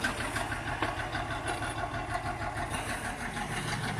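A Massey Ferguson MF 95x tractor's diesel engine idles steadily and evenly at moderate level, alone with no talk, after its primary diesel filter has been bled.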